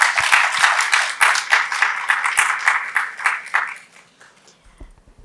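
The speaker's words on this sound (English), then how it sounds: "A round of applause for them." An audience at a literary evening in Bangalore applauds visiting guests from Chennai: brisk scattered clapping with distinct individual claps, trailing off into a few last claps and near silence.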